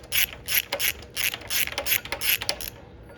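A ratchet clicks rapidly in short bursts while loosening spark plugs on a Porsche 993 engine, eight or so quick ratcheting strokes in a steady rhythm, close up and fairly quiet, with no talking.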